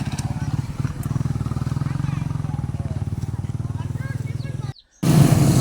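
Several motorcycles rev hard as riders climb a steep, muddy hill slope at Sitio Kalgang while carrying relief goods, a steady pulsing engine drone that is loud and close, then cuts briefly before a louder burst of engine noise.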